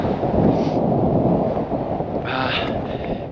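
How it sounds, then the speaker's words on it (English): Strong gusting wind buffets the microphone on an exposed mountain summit around 2,300 meters, a continuous loud roar with no one speaking. "So windy."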